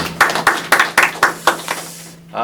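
A small audience at a Korean debate talk show claps together in an even rhythm, about seven or eight crisp claps close by over a steady low electrical hum. The clapping stops and near-silence follows.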